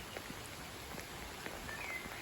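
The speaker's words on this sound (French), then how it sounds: "Et là, il pleut bien." Steady rain falling on an afternoon in early May, a dense, even hiss with scattered drip pops, fairly faint and continuous throughout.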